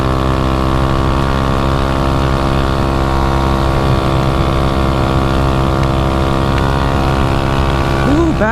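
An SSR 125 pit bike engine holds a loud, steady high-revving drone close by, a constant buzzing whine that barely changes, with a brief rising pitch at the very end.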